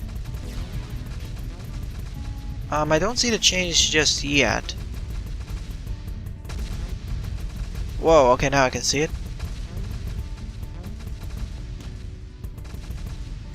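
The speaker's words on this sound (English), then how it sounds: "Damage increased, huge rockets, and massive explosions." Rocket launcher explosions in the game Cally's Trials, with two loud crackling bursts of a few seconds each, separated by a pause, under a voice talking.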